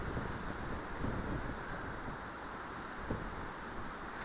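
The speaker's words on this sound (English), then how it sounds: "so it's actually windy and rainy right now." Steady wind buffeting the microphone outdoors at an old Scottish castle on a windy, rainy day, a dense continuous rumble with occasional gusts and no speech.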